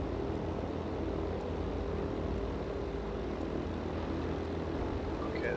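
Propeller engines of a Consolidated B-32 Dominator bomber and other warplanes in World of Warplanes, a steady loud drone lasting throughout with no speech over it.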